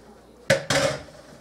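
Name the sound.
cooked macaroni noodles put into a baking pan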